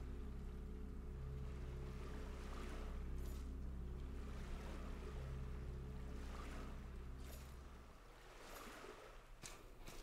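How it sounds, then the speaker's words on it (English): Waves washing on rock in the Salt and Sanctuary video game form a continuous low surging wash with a steady droning hum underneath, which drops away near the end, leaving faint surf. "I woke to the sounds of waves washing on rock, and I knew I was alive."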